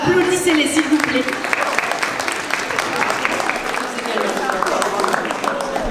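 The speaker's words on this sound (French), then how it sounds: "Applaudissez-les s'il vous plaît." Audience applause for a band at the final of a music talent contest, a steady, dense clapping from a crowd lasting throughout, with a voice speaking over it at the start.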